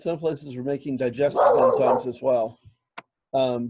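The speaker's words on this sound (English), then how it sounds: "sorry about the barking dog." A dog barks in the background beneath a person speaking close up, with the barks mixed in with the voice.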